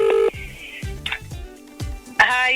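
A telephone ringing tone on a call line during a Dublin radio talk show: short steady electronic tone bursts with thin phone-line quality, broken by muffled voice-like sounds in between.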